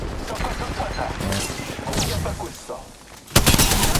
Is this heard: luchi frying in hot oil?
no